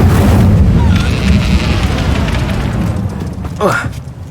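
A fiery Incendio spell blast in the Hogwarts Legacy video game, a loud sustained roaring whoosh at the start that fades, with a rising swooshing burst near the end.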